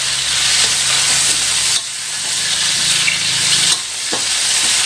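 Loud, steady sizzling and hissing of chicken frying in hot oil, close up, with a couple of brief shifts in intensity.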